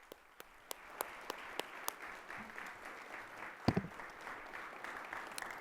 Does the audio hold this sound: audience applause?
yes